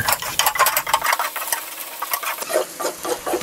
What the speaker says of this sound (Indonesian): Oke, kita tumis hingga benar-benar matang sempurna